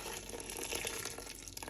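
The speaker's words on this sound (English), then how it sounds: "I finished boiling the water, so I'm adding it to the Ponmo." Freshly boiled water pours steadily from a kettle onto ponmo, cow skin, in a kitchen, making a short, soft, continuous splashing trickle.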